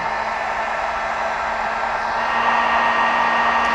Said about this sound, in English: let's go ahead and heat this up with a heat gun